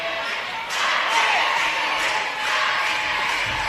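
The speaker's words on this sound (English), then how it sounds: "that cheer block, that's the loudest I think I've heard them here in the past couple games" Student cheer block at a high school basketball game roars in a dense, sustained crowd cheer with shouting, swelling and dipping slightly but staying loud and continuous throughout.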